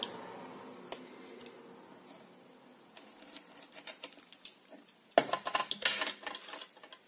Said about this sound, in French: Je vais prendre un cutter pour vraiment couper au plus près.